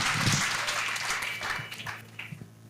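Audience applause at an outdoor church crusade of salvation, healing and deliverance, a broad wash of clapping that starts full and gradually fades over a few seconds.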